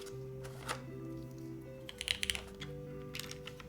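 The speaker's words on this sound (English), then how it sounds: "It's gonna be a good sounding keyboard." Faint, scattered keystrokes on a freshly assembled Yujin TKL mechanical keyboard, a few light clacks and short bursts over a steady electronic hum.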